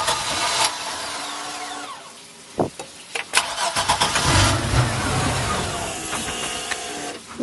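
A 4.3 MPI engine cranking and firing up with its in-gear switch disconnected, starter whir giving way to a sharp catch and then a rough, uneven idle that sounds like it misses on some cylinders.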